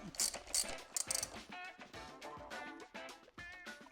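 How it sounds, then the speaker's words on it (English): A hand ratchet tightens headlight fitting screws on a Triumph Speed Twin 1200, producing quick rhythmic clicking bursts at close range, with some short mechanical rattles between strokes. "then tighten them up with a ratchet to just enough"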